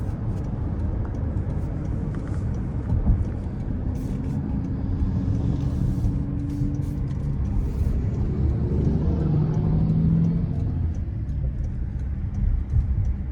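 A 2025 Toyota bZ4X Limited FWD electric car accelerating onto an interstate, heard from inside as a steady, loud road and wind rumble with a faint rising motor whine.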